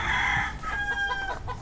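Roosters and chickens roaming free in a clearing in a Philippine indigenous village, one rooster crowing loudly up close with a sustained cock-a-doodle-doo while hens cluck around it.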